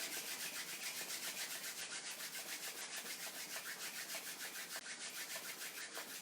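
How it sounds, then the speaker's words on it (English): Hands rub briskly together to build warmth, a soft rhythmic swishing friction heard close and quiet, repeating steadily with no talk. "just rub your hands together"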